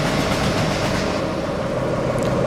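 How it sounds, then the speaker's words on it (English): A freight train rumbles steadily past in an animated model-railway series, a dense continuous roar of wheels and cars with no clear breaks. "The next morning, Kevin puffed in with a freight train."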